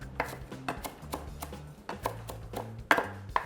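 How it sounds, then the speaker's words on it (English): A knife taps sharply against a cutting board, trimming the ends off coriander stems in an irregular series of crisp, close chops with a few louder strikes near the end. "Just gonna cut those ends off."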